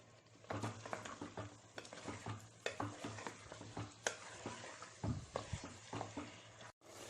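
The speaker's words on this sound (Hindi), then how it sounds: "टमाटर सॉफ्ट होने तक इसे भूनते रहिए" Chopped tomatoes fry in a pan with red chilli powder, a steady sizzle under repeated scraping and stirring strokes, close and moderately loud throughout.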